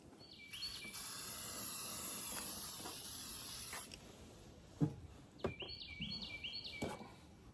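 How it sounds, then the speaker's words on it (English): Brake cleaner sprays from an aerosol can during a deep clean of a dirty four-wheeler, a steady hiss lasting about three seconds, then a couple of short bursts among clunks and handling noises. "Need some brake cleaner."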